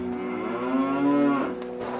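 A single cow moos in one long, low, drawn-out call that swells and then fades, clear and close, with no talk over it.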